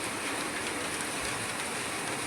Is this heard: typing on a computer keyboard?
no